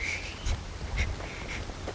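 A small bird sings in a village in Dabri, Karnal district, Haryana, repeating short, high calls about twice a second over steady outdoor ambience.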